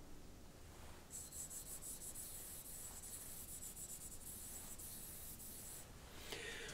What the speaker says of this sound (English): When you're finished rosining your bow